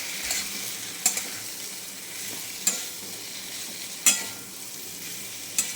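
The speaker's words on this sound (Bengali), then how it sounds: "এই যে কষানো হয়ে গেছে, এবার মাছটা দিয়ে দেব।" Dried fish (shutki) goes into a frying pan of sautéed spices and oil, giving a steady soft sizzle broken by a few sharp clinks and stirring scrapes from a utensil, with no talk.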